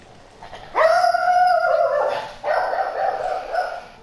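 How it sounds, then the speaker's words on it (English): A pet dog barks loudly and close by during a Civilization VI gaming session, with one long drawn-out bark followed by a rougher burst of barking. "Desperately sorry for this intervention by my dog."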